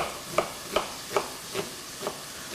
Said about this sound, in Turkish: etlerim kavrula dursun